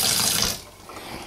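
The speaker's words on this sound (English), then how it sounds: "Basically just rinsing out in cool water just to wash off the excess blood." Cool tap water runs loudly into a sink while raw liver is rinsed, then the flow cuts off and the sound drops to a quieter trickle.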